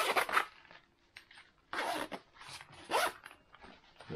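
A two-way YKK zipper on a Tasmanian Tiger tactical pouch is pulled in three quick rasping bursts, close and fairly loud, with short pauses between them and no talking.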